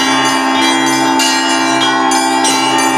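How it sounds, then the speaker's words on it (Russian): Russian Orthodox bells ring the Trinity chime at the Trinity-Sergius Lavra, a 14th-century men's monastery, with loud overlapping clangs and repeated strikes sounding over a sustained resonant hum. "Это «Троицкий звон» – своеобразная визитная карточка Троицко-Сергиевой лавры"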